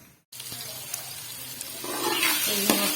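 Chicken karahi masala sizzles and fries in a pan, a steady hiss after a brief silence, growing louder toward the end with occasional stirring clicks and scrapes.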